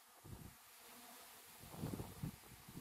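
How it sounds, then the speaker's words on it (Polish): A swarm of honeybees buzzes close by at the spot where a captured swarm had settled, a soft continuous drone with swelling pulses of louder buzzing and no voices. "widzę, że tutaj strasznie dużo jeszcze tutaj zostało pszczół"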